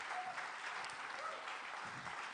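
A conference audience claps to welcome a local industry figure, a brief, fairly faint patter of many hands in a hall.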